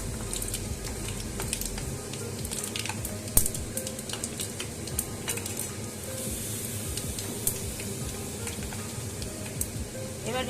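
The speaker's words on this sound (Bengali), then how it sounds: "পাঁচ ফোড়নটা দিয়ে আমি একটু নাড়াচাড়া করে নিচ্ছি।" Panch phoron seeds sizzle and crackle in hot oil while being stirred, a steady fizzing broken by scattered sharp pops and scraping ticks, fairly quiet and close.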